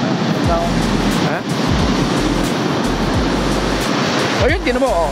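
Steady broadband rush of Pacific Ocean surf at Dinahican Beach, Infanta, Quezon, Philippines, mixed with wind noise, with a voice speaking over it now and then and brief rumbling buffets.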